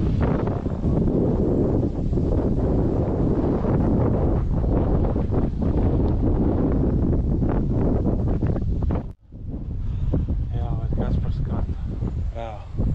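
Strong wind buffets the microphone with a steady roar throughout during a bike ride in Latvia, briefly dropping out near the end before resuming, while people talk.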